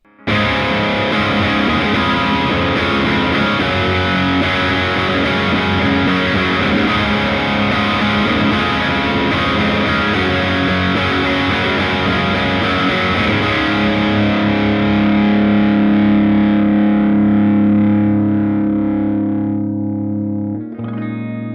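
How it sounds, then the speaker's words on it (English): Sustained, heavily distorted electric guitar through a Laney Lionheart Foundry Super 60 amp's lead channel, thick gain and lingering sustain, playing loud lead lines that ring out alone before fading at the end. "Now let's try in a lead channel with some gain."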